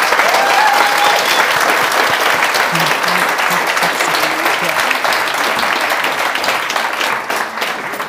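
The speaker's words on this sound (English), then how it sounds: "one big, huge, enormous round of applause" A conference audience at a national social enterprise event gives panelists a loud, sustained round of applause, dense clapping holding steady for several seconds before easing slightly at the end.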